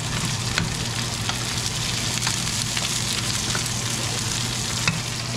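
Red onions sizzling steadily in a hot pan, a dense continuous frying hiss with faint scrapes from stirring, close and fairly loud, with no one talking.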